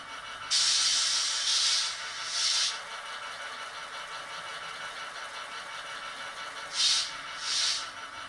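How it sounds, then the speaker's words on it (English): Several sharp bursts of hissing air from the compressor and valve sound effects of a model Irish Rail Class 201 locomotive, in a quick cluster, then two more after a pause, over a faint mechanical background hum. "The various compressors and valves."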